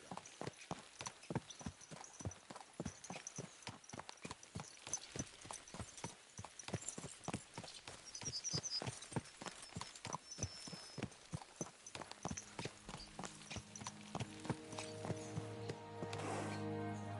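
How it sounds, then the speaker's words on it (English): Horses' hooves clip-clop in a fast, steady, galloping rhythm throughout a video game, close and fairly loud, with a sustained tonal game tone swelling in near the end. "Let's really spur these horses on, eh?"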